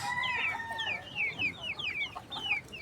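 Free-range 45-day broiler chickens cluck repeatedly in a backyard farm, a busy overlapping chorus of short calls at moderate distance with no talking.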